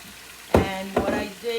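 Water poured into a hot pan of cumin and paprika bursts into two loud sizzling hisses that settle into a steady bubbling simmer.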